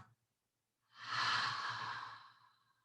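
A long, breathy exhale during a yoga practice, lowering the arms, rises after a short quiet and holds steady before fading over about two seconds, close and clear with no talk.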